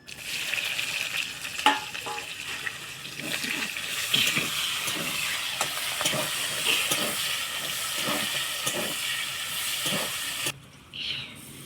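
Cumin, bay leaf, two dried chilies and chopped onion sizzle in hot oil with a continuous loud frying hiss, punctuated by repeated scraping stirs, before the sizzle cuts off abruptly near the end.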